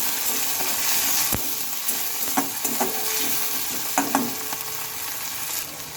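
Peas frying in a hot pan give a steady, close sizzle with a few scattered clicks and stir scrapes, and no voices.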